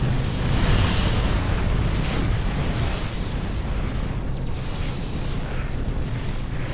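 Missile fire and explosions in a space battle in the game Sword of the Stars form a dense, continuous roar of overlapping blasts with a steady high tone running through it, loud and unbroken.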